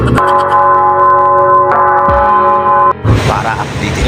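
A notification bell sound effect rings with sustained, bright tones through most of the clip, then cuts off abruptly and gives way to a noisier burst.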